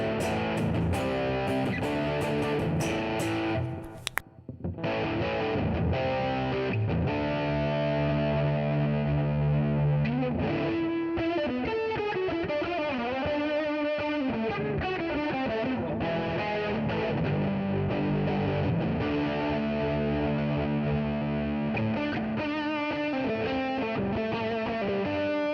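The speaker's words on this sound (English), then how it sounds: "so you want to turn on the reverb" A NUX Trident guitar multi-effects pedal plays a sustained distorted electric guitar with the reverb effect engaged, chords ringing and washing together continuously and loud, with a brief dropout early on and no talking.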